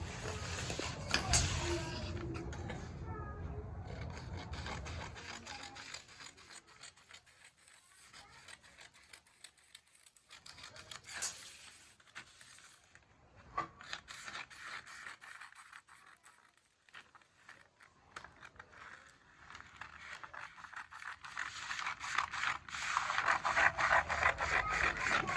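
Scissors cut through fabric for a skirt in a run of faint, rapid rasping snips and rubbing strokes, quieter in the middle, with no talking.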